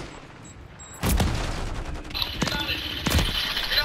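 Gunfire in the video game Warzone, with a WSP Stinger akimbo loadout in multiplayer: a sudden loud burst of shots followed by more scattered cracks and impacts, close and dense over game ambience.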